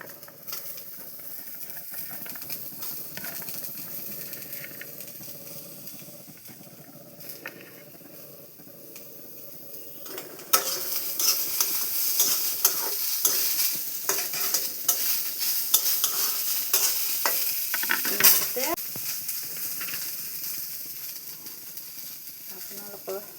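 Radish added to browned onions frying in a pan, stirred with a steady crackling sizzle that grows louder and denser halfway through, with scattered scrapes of the spatula up close.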